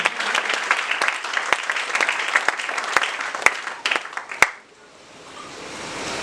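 Church congregation applauding together, dense continuous clapping for about four and a half seconds, then stopping abruptly into a quiet room hush.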